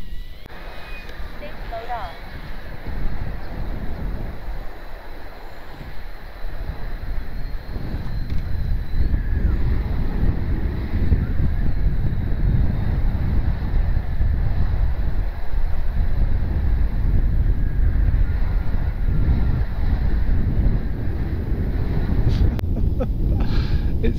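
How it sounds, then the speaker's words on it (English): Strong wind buffets the microphone at an RC flying field, a loud steady low rumble that swells and stays heavy, with some talking underneath it. "It's very windy though"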